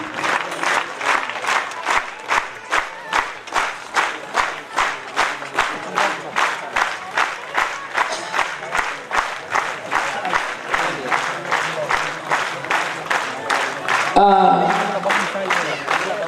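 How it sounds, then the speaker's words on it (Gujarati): An audience at a temple consecration festival in an ashram claps in steady unison rhythm to honour the saints, the beats sharp and evenly spaced for most of the stretch, with a louder burst of crowd noise near the end. "ખૂબ જ ભાવની પ્રેમની અને દિલની તાળીઓથી તાલબદ્ધ રીતે એક મિનિટ માટે આપણે વધાવતા રહીએ"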